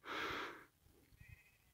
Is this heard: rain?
no